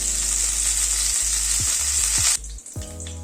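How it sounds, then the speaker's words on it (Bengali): Pabda fish frying in hot oil, a steady loud sizzle with several soft clinks of a utensil against the pan, the sizzling dropping sharply near the end as pieces are lifted out. "এই মাছগুলো ভাজা হয়ে গেল"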